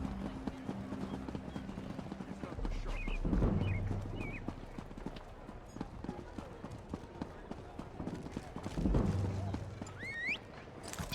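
Horse hooves clip-clop steadily at a riding pace in Elder Scrolls Online's Blackwood region, a moderate rhythmic patter under ambient game sounds and brief voices.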